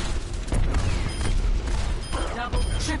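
Rocket launcher shots in the video game Overwatch, heard as repeated booming blasts and explosions mixed into busy battle noise, loud and close, with a voice talking over the action.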